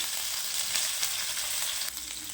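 Ginger and green chillies crackle in hot oil for veg momos, a dense, loud, continuous sizzle that stays even throughout with small bursts of spitting.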